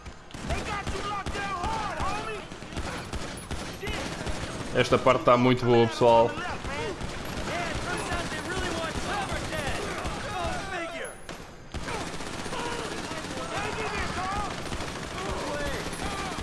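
Video game gunfire in GTA V: rapid bursts of automatic shots and fusillades run through the whole stretch, with one denser, louder volley midway, under near-constant talk from a player.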